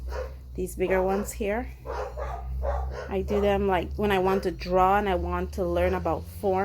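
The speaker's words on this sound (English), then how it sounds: "They're barking at the garbage man." Dogs barking at a garbage truck, with repeated loud, close barks in bursts and a few whimpers, heard under a person talking.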